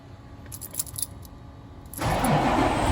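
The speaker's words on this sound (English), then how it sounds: "And then we'll go ahead and run the truck." Keys rattle briefly before a 2017 International HX truck engine cranks and catches at about two seconds, settling into a loud, steady diesel idle close by.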